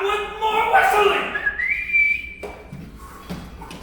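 A person whistles a signal: a loud, close run of wavering notes that slides up into one long held tone, then fades, leaving faint low sounds and a brief voice.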